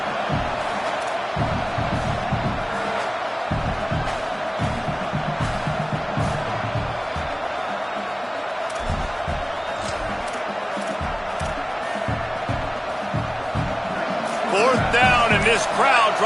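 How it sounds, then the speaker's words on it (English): A college football stadium crowd roars steadily during a Nebraska Cornhuskers fourth-down stand, its noise building near the end, with a commentator talking over it throughout. "This crowd trying to help this defense rise to the occasion."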